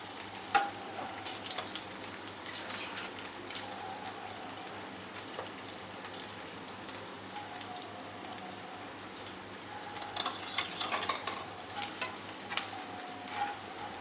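Chicken pieces for restaurant-style Chicken 555 frying in oil, giving a steady, close, even sizzle that runs throughout with small crackling bursts, growing busier near the end.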